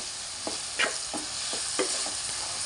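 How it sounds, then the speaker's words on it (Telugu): Fried cluster beans are stirred in a sizzling pan, with a steady hiss of frying broken by several soft scraping strokes of the spoon at an even rhythm. "గోరుచిక్కుడుకాయ వేసుకొని కలుపుకుందాం."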